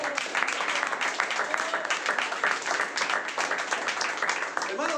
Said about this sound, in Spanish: ¿Cuánto un fuerte aplauso, Señor?